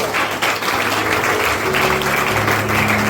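A church congregation at an ordination service applauds loudly and continuously, a dense wash of many hands clapping at once. A faint voice sits beneath the clapping.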